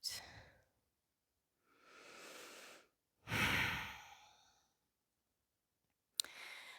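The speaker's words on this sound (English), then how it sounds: "Deep breaths in and long breaths out." Slow, deep breathing during a yoga session, with a long inhale and a long exhale alternating in distinct breaths. Quiet gaps separate the breaths, which are close and soft, and a brief click sounds near the end.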